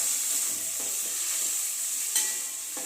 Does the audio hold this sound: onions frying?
yes